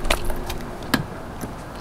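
Keys jangle against the rear storage locks on a custom Toyota Tundra truck bed: a few sharp metallic clinks and rattles, close by, with quiet between them.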